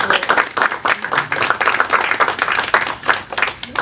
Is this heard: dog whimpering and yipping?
no